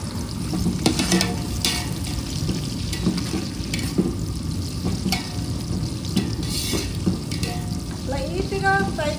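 Onions and green chillies frying in a pan, a steady close sizzle with occasional stirring scrapes and clinks, with a person talking quietly underneath.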